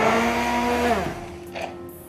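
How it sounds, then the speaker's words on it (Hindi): An electric kitchen blender grinding masala whirs loudly and close, then winds down partway through and stops, leaving only a few faint clicks and knocks. "ब्लेंड कर देंगे"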